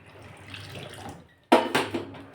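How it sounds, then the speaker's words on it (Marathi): Water poured into a pot of dal, a soft trickle followed by a sudden loud gushing splash that continues to the end. "इथपर्यंत पाणी टाकायचं आहे"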